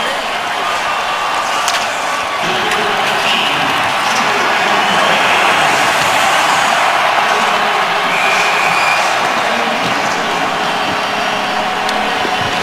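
Dense, steady roar of a large hockey crowd at an outdoor NHL Stadium Series game, Pittsburgh Penguins at Chicago Blackhawks, sustained cheering and murmur with scattered louder bursts throughout.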